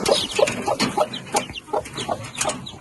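A brooding hen clucks repeatedly up close, soft short rhythmic calls in quick succession, alone without talking.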